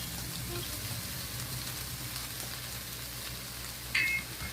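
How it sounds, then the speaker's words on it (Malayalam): Cooked rice mixed into chicken fried rice in a hot pan, a steady crackling sizzle throughout with a brief metallic scrape near the end, close and alone. "ഇനി വേവിച്ച് വെച്ചിരുന്ന ചോറ് ഇട്ട് മിക്സ് ചെയ്യാം."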